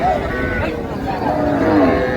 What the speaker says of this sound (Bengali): গাভী বাছুর আমরা দেখছিলাম সুন্দর কোয়ালিটির